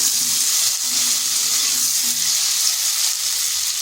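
Potatoes frying in a pan for a Bengali pumpkin-greens stalk chorchori, a steady close sizzle and hiss running evenly throughout with no voices.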